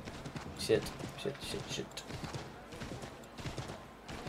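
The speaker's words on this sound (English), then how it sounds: "Horse coming through." Horse hooves clip-clop in a quick, uneven patter in the video game Assassin's Creed III, moderately close, while someone talks over them.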